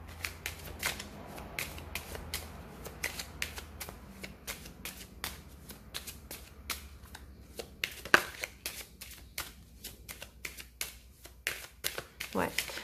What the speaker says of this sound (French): Je vais recouvrir certaines cartes pour avoir un peu plus d'informations.